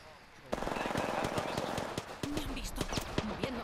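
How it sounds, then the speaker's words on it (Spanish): Automatic gunfire rattles in the Apex Legends video game, with rapid bursts of sharp shots and a few single reports, fairly faint under excited Spanish-speaking players talking. "Me disparan, amigos."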